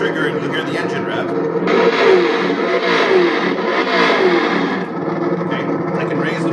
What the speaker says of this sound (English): Now I can rev the trigger and you'll hear the engine rev.